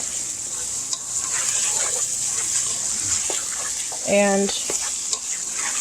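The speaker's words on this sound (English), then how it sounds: "I'll let that simmer for a bit, let the flavors meld" Ground beef and turkey taco meat simmering in a pan, a soft steady bubbling sizzle with occasional spoon scrapes and clinks, close; a brief short tonal noise and a passing word of talk intrude.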